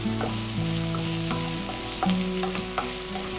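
Chopped green chillies sizzle and crackle in hot oil in a pan, with a steady frying hiss and a few sharp stirring clicks, close and alone.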